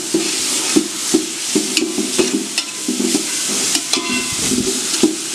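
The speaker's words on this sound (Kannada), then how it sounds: "ಶುಂಠಿ ಬೆಳ್ಳುಳ್ಳಿ ಪೇಸ್ಟ್ನ ಕ್ಲೀನಾಗಿ ಒಂದು 5 ರಿಂದ 10 ನಿಮಿಷ ಬೇಯಿಸ್ಕೊಳ್ಳೋಣ" Ginger garlic paste fries with onions in hot oil for chicken biryani, a steady close sizzle broken by regular scraping strokes of a spatula against the pan, loud and continuous with no talk.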